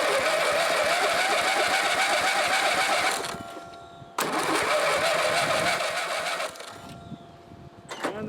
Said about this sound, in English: We'll go ahead and get on the mower and see if there's even any fuel in the carburetor to give us a start.